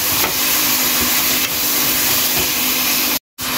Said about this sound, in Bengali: পেঁয়াজ দেওয়ার পরে বেশ কিছুক্ষণ ভেজে নেব।